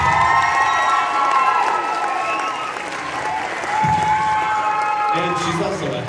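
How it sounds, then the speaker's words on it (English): Applause and cheering from a high school show choir cabaret audience, steady clapping blended with crowd noise and whoops, with voices and some sustained tones rising over the clapping. "Can you please give this wonderful woman a round of applause?"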